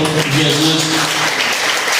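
Church congregation clapping in praise during a service, loud continuous applause close by with voices faintly mixed in.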